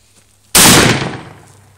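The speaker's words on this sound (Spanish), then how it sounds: "Ya estuvo la primera sensación de disparo." One sharp, very loud shotgun blast goes off during basic shotgun training, followed by a decaying echo over about a second, with no talking.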